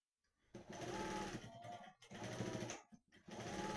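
A sewing machine stitches blouse parts in three quick bursts of rapid, even needle rattle, with short pauses between them. The sound is close but quiet.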